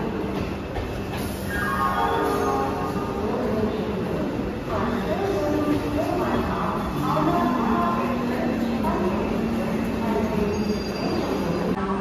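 The Hool Express rolls through Howrah station with a loud, continuous rumble and drawn-out squealing of wheels on the rails, while people's voices murmur underneath.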